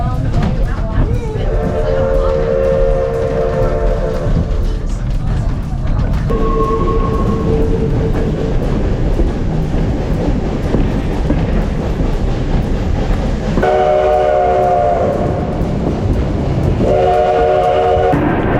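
Oldest tourist train in the world running on a Badlands-to-hot-springs route, with a loud rumble of the train throughout and repeated horn or whistle blasts near the start and again near the end, with people talking over it.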